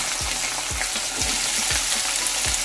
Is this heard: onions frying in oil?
yes